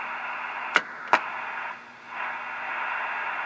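A Drake TR-3 SSB transceiver with an aging crystal filter gives off hissy, band-limited receiver noise, broken by two sharp clicks and a brief dip before the steady hiss returns.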